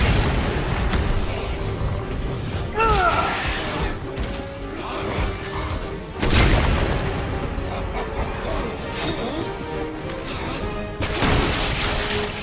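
A grenade blast in Resident Evil 6 with Chris's campaign in play: several heavy booms and crashes land amid loud, continuous game action, with gunfire-like bursts around them.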